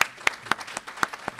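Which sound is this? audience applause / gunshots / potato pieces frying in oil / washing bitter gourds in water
audience applause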